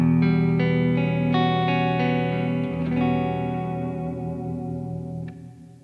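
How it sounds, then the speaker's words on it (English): Electric guitar chords ring out with a lush plate-style reverb, notes sustaining and slowly decaying into a shimmering tail. "I'm just using a plate reverb."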